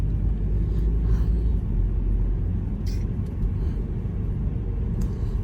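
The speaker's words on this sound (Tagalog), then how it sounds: "Dami sasakyan na, kahit na malamig," Steady road traffic on a cold day by a promenade near condominiums in Vaughan, heard as a continuous low rumble of many cars passing, fairly close and loud, with no talking.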